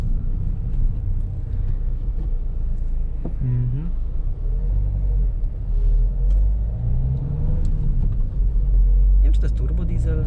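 A Toyota diesel car engine drones steadily while driving, a low continuous rumble with mild rises, as someone talks over it throughout.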